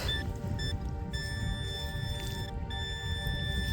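A Minelab Equinox metal detector gives steady electronic signal tones in a marshy field, several sustained pitched beeps held and repeated over constant low background noise.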